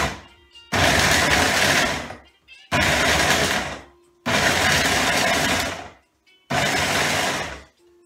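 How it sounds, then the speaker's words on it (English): A Ninja blender grinding dates, four loud roaring pulses of a couple of seconds each, separated by short silent gaps, close and dominant. "So let's put the Ninja together. And you're just going to grind the dates."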